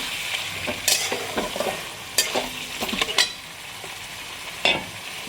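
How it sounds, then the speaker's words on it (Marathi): Chicken with spices, salt and oil cooks in a pot for hotel-style biryani: a low sizzle is broken by several sharp, irregular scrapes and clatters of stirring close by. "थोडंसं मीठ टाकायचं आणि थोडं तेल टाकायचं. किती छान शिजतं बघा."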